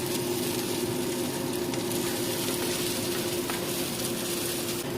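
Onions toasting in a hot pan for salsa make a dense, continuous sizzle with a low steady hum underneath. It is loud and close, with no speech.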